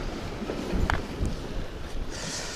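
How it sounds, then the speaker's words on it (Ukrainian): Steady wind buffeting the microphone outdoors on seaside rocks in Odesa, a broad rushing roar with faint water or waves underneath. "Вітер в спину"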